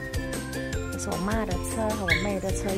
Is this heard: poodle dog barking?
yes